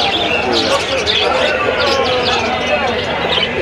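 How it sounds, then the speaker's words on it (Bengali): Pigeons at an open-air pigeon market in Beldanga, Krishnagar, cooing and calling continuously amid a loud crowd hubbub, with people talking nearby throughout. "সবুজ পায়রা আছে দুটো।"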